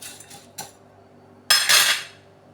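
Spicy noodles are mixed in a bowl with rice flour, salt, curry leaves, dried red chillies and oil. A spoon clinks lightly twice, then scrapes louder in one close burst, with no talk.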